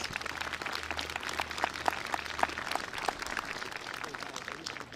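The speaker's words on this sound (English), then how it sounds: "Yes, we'll give them a big round of applause" An outdoor civic celebration crowd applauding young performers, uneven clapping with distinct individual claps over a low rumble, fairly distant and moderate.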